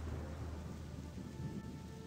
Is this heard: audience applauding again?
no